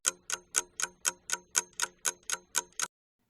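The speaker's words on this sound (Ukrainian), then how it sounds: "годинник" A clock ticks steadily, about a dozen even, sharp clicks at a quick regular pace, close and fairly quiet, with no other sounds around them.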